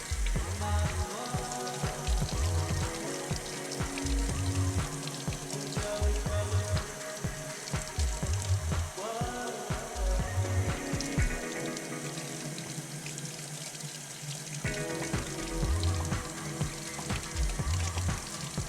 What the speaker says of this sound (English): I'll just go hit them with some cold water